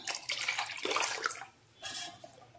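Water splashes and pours briefly into a pot of tamarind-ginger gravy, pauses, then a second shorter pour follows, close by.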